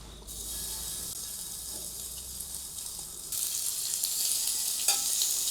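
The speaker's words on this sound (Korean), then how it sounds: "그럼 일단 고기를 구워볼게요." Meat sizzling on a grill outdoors, a steady close hiss and crackle throughout that grows louder and brighter partway through, with a brief clink near the end.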